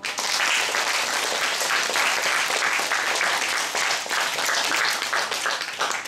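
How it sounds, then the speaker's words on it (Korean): A crowd applauds steadily, a dense wash of many hands clapping that holds at full strength for several seconds without pause. "박수 한번 쳐주세요."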